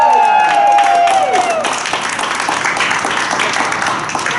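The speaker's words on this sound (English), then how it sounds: "let's give a big round of applause to Drew and Manny for doing a fabulous job" An audience at the St. Al's Rockathon applauds the winning team. A dense, continuous burst of clapping follows a short falling tonal sound at the start.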